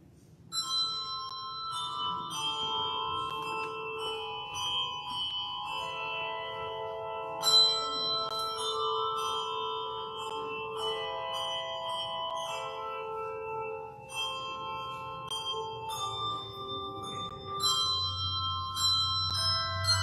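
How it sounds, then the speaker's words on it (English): A church handbell choir plays a prelude at a Lutheran Advent service, sustained ringing bell tones layering into a steady melodic passage that continues for the whole stretch without speech. "we have a special prelude today from the Bell Choir"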